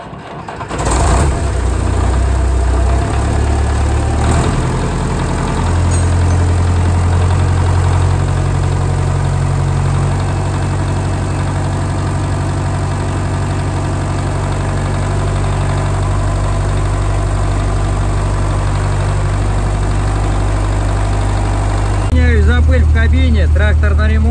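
A tractor engine, just restarted after repairs and fitted with a newly installed air conditioner and steering metering unit, runs close by with a loud, steady low-pitched drone that holds for the whole stretch.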